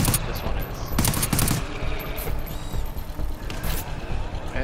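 Assault rifle fire in the GTFO video game, with several rapid bursts of loud, sharp shots, mechanical clatter and game effects in between, and a voice briefly audible.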